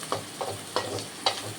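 Onions and spices sautéing in sesame oil for Chettinad chicken gravy, a soft steady sizzle broken by four evenly spaced scraping strokes of a spoon in the pan, close and brief.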